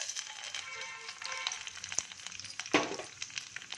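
Raisins, cashews and chopped almonds fry in ghee for a sweet dish, giving a soft, continuous sizzle with light crackles and an occasional stir, fairly faint.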